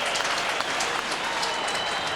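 Eagles home crowd in a 2004 Round 14 Australian football match against Central, cheering and applauding the opening goal; a dense, steady roar of clapping and shouting fills the stands throughout without a break.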